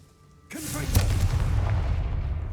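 A Confringo fire spell in Hogwarts Legacy goes off with a sudden loud blast, followed by a sustained, rumbling burst of flame and crackle that holds steady for about two seconds.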